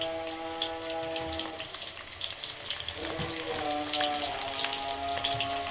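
Chilies and onions fry in hot oil with a steady crackling sizzle, close and moderately loud, with a few brief tonal hums and small clinks underneath.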